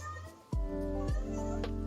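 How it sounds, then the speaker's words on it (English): A house cat meows three times in quick succession, loud and close, each call rising and falling with clear harmonics. "I don't know what the cat wants."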